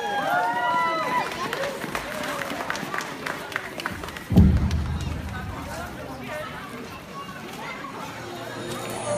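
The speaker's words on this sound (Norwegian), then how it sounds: "Stor applaus, kjære publikum!" An audience at a live music performance applauds as a singer is welcomed to the stage, a steady wash of clapping mixed with crowd noise and a loud thump partway through.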